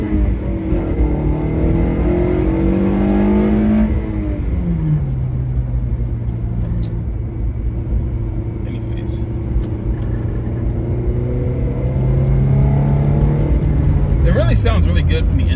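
Scion tC with a modified exhaust revs and rumbles, engine pitch rising and falling through several throttle blips over a steady low drone, heard loud and close from inside the car.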